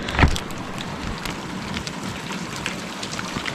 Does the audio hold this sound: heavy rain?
yes